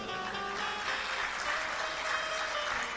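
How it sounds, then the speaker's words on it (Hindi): A large devotional gathering at a Shiv Mahapuran recitation claps loudly and steadily, a continuous crowd applause that fills the space evenly from start to finish. "आज तो आप बड़ी जोर से तालियां बजा रहे हैं।"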